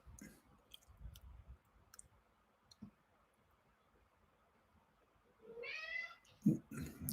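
A pet cat meows faintly near the end, a short rising call, after quiet ambient stretches with scattered clicks and soft handling sounds.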